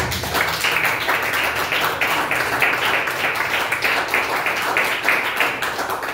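A church congregation claps in a dense, continuous wash of hands during an evening service, loud and close, with no one talking over it.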